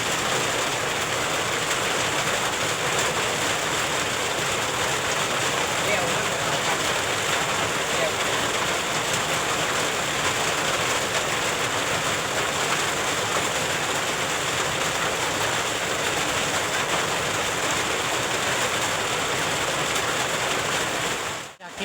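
Steady, dense rainfall hisses continuously at an even level for the whole stretch, a broad wash of noise with no breaks until it cuts off at the very end.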